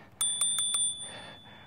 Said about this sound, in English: There is a bell right here.